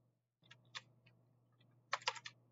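Quiet keyboard typing: a few isolated key clicks, then a short rapid burst of keystrokes near the end over faint background hum.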